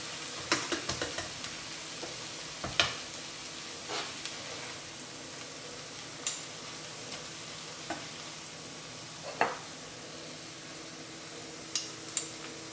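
A vegetable julienne tortilla reheats in a pan with a steady, close sizzle and frying hiss, broken by occasional scraping clicks of a utensil stirring, and no one speaks.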